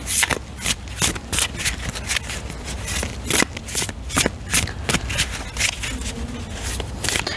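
Tarot cards being shuffled by hand, a rhythmic series of crisp riffling bursts repeating steadily, close and clear with no talk over them.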